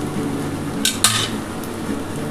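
A spoon stirs sabudana pulao with a little ghee in a pan, giving two quick metallic clinks and a brief scrape over a faint background hum.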